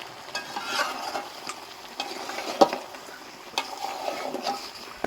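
Nihari meat being stirred and sautéed in a pan: scraping spoon strokes and a soft sizzle, with irregular stirring scrapes and one sharp clack near the middle, close and moderately quiet.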